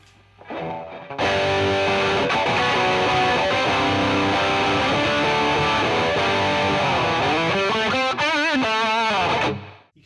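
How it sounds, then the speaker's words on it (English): Loud electric guitar through a Valeton OD-10 overdrive pedal and a distortion pedal plays sustained chords and bends, ringing out continuously before cutting off at the end. "If I put a distortion pedal the other side of it"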